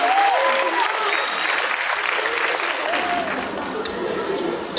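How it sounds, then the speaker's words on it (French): An audience applauds author Anna Gavalda at a prize ceremony for a youth reading contest, a dense, sustained round of clapping that fades slightly toward the end, with a few voices mixed underneath. "Je vous demande d'applaudir Anna Gavalda qui est avec nous"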